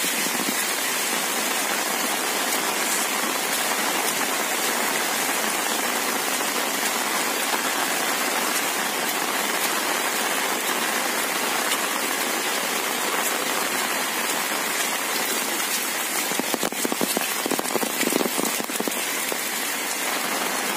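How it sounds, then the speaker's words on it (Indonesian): Heavy rain pours steadily in a village in Dongko, a dense unbroken hiss of drops hitting the ground and surfaces, loud and continuous throughout with no talk. "Kecamatan Dongko diguyur hujan deres banget."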